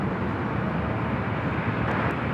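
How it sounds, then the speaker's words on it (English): Avianca Airbus A320neo airliner lining up on the runway at LAX, a steady broadband engine roar heard from a distance with no break. "Got an Avianca A320, I believe it's a Neo. Lining up."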